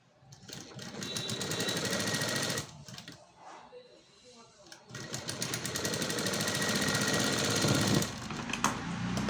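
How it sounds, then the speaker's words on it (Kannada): Sewing machine stitching a blouse dori (tassel tie): loud, close, rapid mechanical chatter in two long runs, broken by a short pause where a voice is heard. "ಈ ನಾಟನ್ನ ಇಲ್ಲಿಟ್ಟು ಸ್ಟಿಚ್ ಮಾಡಬೇಕು"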